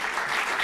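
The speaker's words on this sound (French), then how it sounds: "Donc premier applaudissement à vous." Audience applause opening a Swiss conference on digital transformation, a short burst of steady, dense clapping heard up close.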